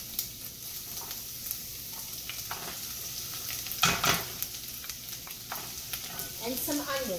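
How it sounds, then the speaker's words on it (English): Garlic sautés in hot olive oil for a fermented tomato marinara, giving a soft continuous sizzle with occasional stirring clicks and a brief louder scrape, faint and close. "right now I'm heating up some olive oil, and I'm going to saute some garlic"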